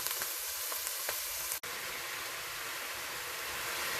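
Onions and peppers cook in a pot for chili, a constant bright hiss of sizzling with a few light taps early on and a brief dropout partway through.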